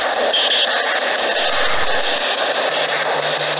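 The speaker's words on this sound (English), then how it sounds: "Whoever is shrieking through this device, are you a good spirit or a bad spirit?" A ghost hunting device at a haunted place gives a steady, loud, hissing shriek like harsh static, continuous and close throughout, with no voices over it.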